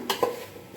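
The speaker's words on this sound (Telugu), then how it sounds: "మళ్ళీ కలుపుకోవాలి." A spoon stirs veg pulao masala with garam masala in a pan, giving two short scraping clinks close by, with quiet cooking noise after and no talk.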